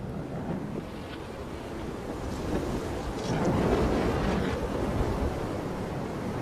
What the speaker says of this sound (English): The winds gusted to 40 miles an hour.